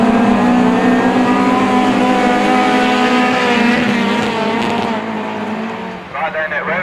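Class 6 autograss race cars roar past at close range at an St Neots meeting, a loud sustained engine drone that fades toward the end, then a thinner revving engine.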